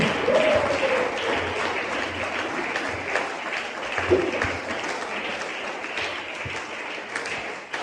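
A church congregation applauds in acclamation of the Lord, a dense steady wash of clapping sustained at even loudness throughout, with a brief raised voice near the start and a few scattered calls within the crowd.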